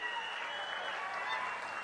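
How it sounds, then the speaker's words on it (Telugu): An audience applauds at a government event in Andhra Pradesh marking a canal opening, a steady, dense wash of clapping that stays even throughout. "గట్టిగా చప్పట్లు కొట్టి మీరందరూ కూడా అభినందించాల్సిన అవసరం ఉంది."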